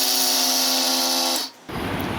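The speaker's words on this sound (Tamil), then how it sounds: "பொரிகடலையும் மட்டும் கொஞ்சம் லைட்டாக அரைச்சிட்டு வந்துடுவோம்." A kitchen mixer grinder whirs loudly and steadily as it grinds roasted gram with peanuts for laddu, briefly cutting out and then restarting with a rougher, rattling churn.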